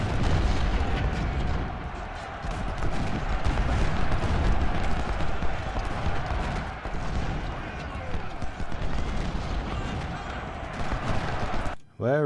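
Massed musket volleys and cannon fire in the Ultimate General: Civil War strategy game, dense continuous battle crackle with booming shots throughout, cutting out abruptly near the end.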